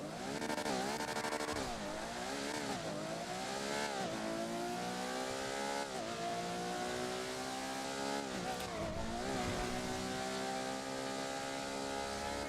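Ferrari F812 with a modded engine sound in GTA V FiveM, revving and pulling through gears in rising sweeps with gear-change dips, loud and steady throughout with no talk.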